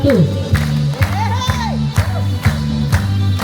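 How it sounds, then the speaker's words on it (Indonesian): Group hand clapping in a reflex exercise session, sharp claps landing about every half second in a steady beat over background music with a melodic tone. "Senam refleksi mulai dengan tepuk tangan"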